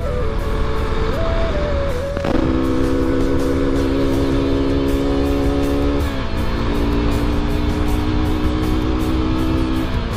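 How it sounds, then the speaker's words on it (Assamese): A KTM motorcycle engine misfiring and failing to pull, running loud and close with a steady droning tone that steps up and down in pitch a few times, no voices. "তো চাওক গাইজ বাইকখনে ভালকৈ পুল কৰা নাই মিছ মাৰিছে"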